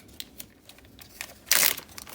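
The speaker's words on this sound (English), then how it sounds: "I'm just gonna open some of these up and put them in this Ziploc bag to break them up." Butterfinger candy bar wrappers being opened, with faint crinkles early on and then a brief, loud burst of crumpling plastic near the end.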